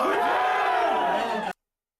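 A convention panel audience cheers and yells together in a loud, sustained burst of crowd voices lasting about a second and a half before cutting off abruptly.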